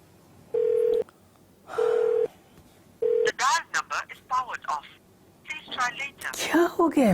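Three steady electronic dial or ringback tones sound on a telephone as a call goes unanswered, followed by clear speech from a woman nearby.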